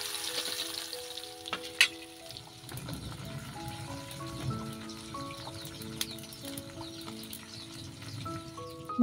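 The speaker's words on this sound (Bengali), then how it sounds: "মাছগুলো মেখে তারপরে আমি ভেজে নেব। ওইদিকে হচ্ছে চুলায় আগুন ধরিয়ে দিয়েছি, আর হচ্ছে কড়াই বসিয়ে দিয়েছি" Fish frying in oil in a wok on a clay stove, a soft steady sizzle with occasional sharp pops and clinks, fairly faint and heard alone.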